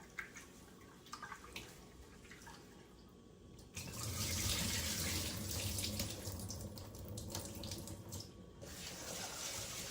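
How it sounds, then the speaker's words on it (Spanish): Running cold tap water pours steadily into a sink while tamale ingredients are washed by hand, a constant close splashing rush that swells louder partway through, with occasional drips and handling sounds. "Con agua fría se lava."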